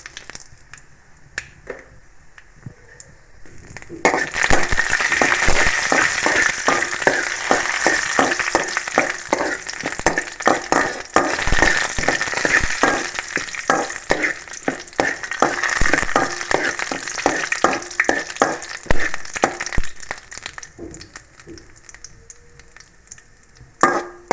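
Curry leaves, dried red chillies and urad dal crackle loudly in hot oil for taro stem thoran, a dense run of sharp pops and sputters over a steady sizzle, starting abruptly after a quiet few seconds and easing off near the end.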